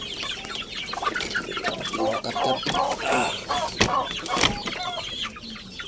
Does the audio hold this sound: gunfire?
no